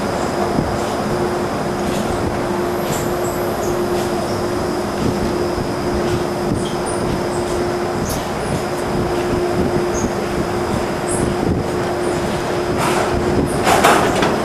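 A Disneyland monorail rumbles steadily along with a constant mechanical drone and a faint high whine, continuous throughout with no talking.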